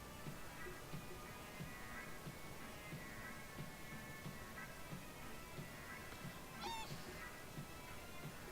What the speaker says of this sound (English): Swans and geese can be quite vicious.